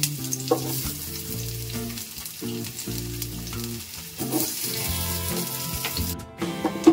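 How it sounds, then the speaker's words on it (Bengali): Three medium chopped onions fry in hot oil in a kadai, giving a steady bubbling sizzle under scattered metallic stirring knocks, with no talk over it. "এতে আমি 3টে মিডিয়াম সাইজের পেঁয়াজ কুচো করে ভেজে নেব লাল লাল করে।"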